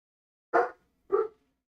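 A dog barks twice, loud and close, with a pause between the two short barks and silence around them.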